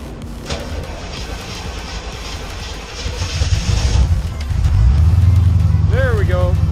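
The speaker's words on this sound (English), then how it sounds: "Start her up. Here we go, baby. 1985 Corvette cold start." A 1985 Chevrolet Corvette C4 cold-starts: a cranking whir builds, the V8 catches around the midpoint and settles into a loud, steady idle rumble close by.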